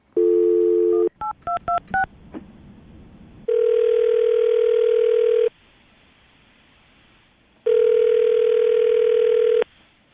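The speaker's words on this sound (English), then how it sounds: "we're going to call him right now, see if we can get him on the phone" A phone call being placed: a steady dial tone, a quick burst of touch-tone keypad beeps, then two long, loud ringback tones separated by a quiet gap, with no talking.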